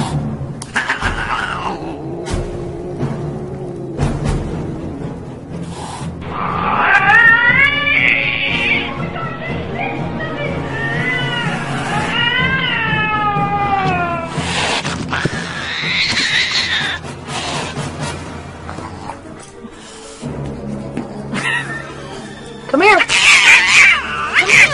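A cat meows repeatedly, with drawn-out, wavering yowls and caterwauls at moderate distance, amid people talking and exclaiming in pain while the cat scratches them.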